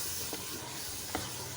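Shalgam gosht masala sizzling in a pan, a steady bright hiss with two soft scrapes of stirring, close and continuous.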